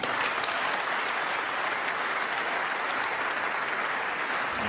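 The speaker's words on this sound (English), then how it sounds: "he got a round of applause before he played the shot" A snooker crowd applauding in an arena, a dense, even wash of clapping sustained throughout at moderate level.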